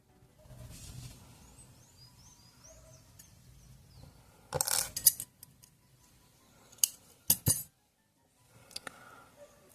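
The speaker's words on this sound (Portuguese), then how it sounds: "posso subir e cortar o meu fio" Scissors snip through yarn while an Ice Age Sid amigurumi is finished, giving a few short, crisp metallic cuts in quick bursts against a quiet background.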